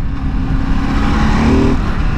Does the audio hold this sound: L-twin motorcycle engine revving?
yes